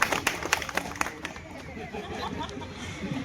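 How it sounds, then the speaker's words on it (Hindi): An audience at a Chhattisgarhi film trailer release meetup in Raipur claps, with sharp separate claps at first that blend into a dense wash of applause and crowd murmur. "उनके लिए जोरदार तालियां बजाइए"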